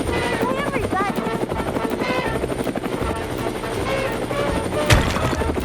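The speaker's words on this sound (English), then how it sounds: "We have to call a rescue helicopter." Toy rescue helicopter flying during a bridge-collapse play scene, a steady rhythmic rotor chop with busy overlapping sound throughout and a sharp bang near the end, with voices woven in.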